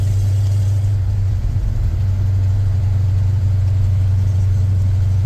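A 1986 Ford F150 with a 351 Windsor V8, long-tube headers, X-pipe, 20-inch glass pack mufflers and 3-inch turndowns rumbles at a steady, deep, loud idle throughout, close by and unbroken.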